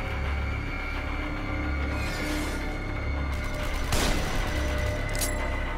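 Gunfire in the horror video game The Evil Within, a burst of shots with a sharp blast near the four-second mark, heard over a steady rumbling game soundscape with no talking.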